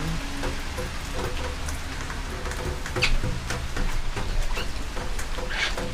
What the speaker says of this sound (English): Raining like crazy.